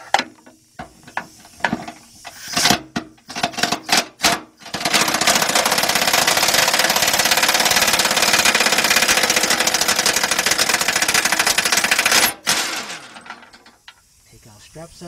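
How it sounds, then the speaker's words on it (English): A half-inch drive air impact gun with a 13 mm deep socket on an extension works under a 2002 Mercury Sable near the fuel tank, short bursts, then a long loud continuous hammering rattle that cuts off abruptly. "We got a 13 millimeter deep impact socket, half inch drive, a 4 1/4 inch extension, half inch drive, our half inch drive air gun"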